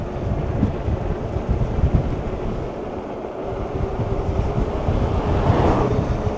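Steady wind rushing over the microphone while riding a SAMEBIKE RS-A02 Pro electric bike uphill, a loud continuous low roar that swells slightly toward the end, with no voices.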